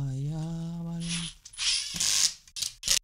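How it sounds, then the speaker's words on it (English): A screw is driven into a plastic shed door bracket with a power drill, which whines steadily at first, followed by short grinding and ratcheting bursts nearby. "Get a screw, thread it through this little tiny hole. And then screw it in."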